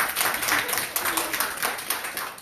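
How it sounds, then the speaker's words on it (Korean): A church congregation claps together after the pastor's call, a dense steady patter of many hands at moderate level lasting a couple of seconds, with faint voices mixed in. "박수."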